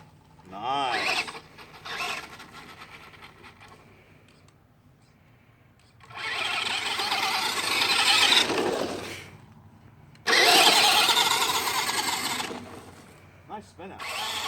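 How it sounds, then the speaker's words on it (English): A small radio-controlled car revs its electric motor in loud whining bursts as it spins out, two long high-pitched runs separated by quieter gaps, with people talking in between. "Nice spin out."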